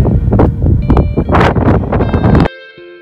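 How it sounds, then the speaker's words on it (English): Loud, gusty wind at Oahu, Hawaii buffets the microphone in rough surges, then drops away abruptly near the end, leaving a quiet hum. "It's windy over here."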